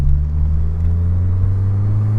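A deep, steady engine drone with strong low rumble, continuous and loud, like a car exhaust heard close while driving.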